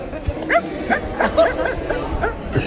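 A human voice imitates a rich household's dog and a poor household's dog barking, yipping and whimpering in a mimicry act, producing a run of short, sharp, close bursts with brief pauses between them.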